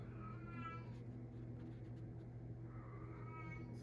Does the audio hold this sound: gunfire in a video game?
no